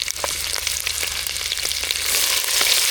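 Onion and garlic fry in hot oil with a steady, close crackling sizzle that swells slightly louder toward the end, with no voices.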